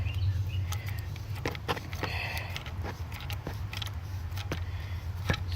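A Miracle-Gro universal liquid feeder is threaded onto a garden hose outdoors, giving scattered faint plastic clicks and creaks over a low steady background hum.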